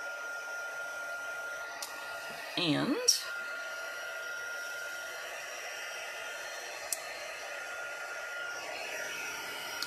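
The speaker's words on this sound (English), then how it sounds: "So let me just heat up my heat gun." A heat gun melting embossing powder blows a steady broad rush of hot air that runs the whole time. A brief clatter comes partway through, and a voice is heard faintly once.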